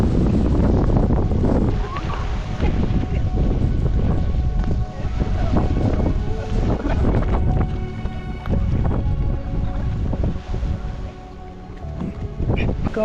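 Strong wind gusts buffet the microphone during a cycling ride through the Western Ghats near Vagamon, a loud, rough, continuous roar that swells and dips, with faint voices underneath.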